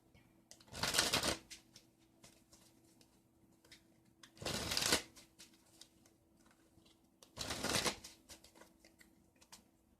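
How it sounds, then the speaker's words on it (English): Tarot cards are shuffled three times in short, crisp riffling bursts, each about a second long, with quiet pauses between them. "I'm shuffling"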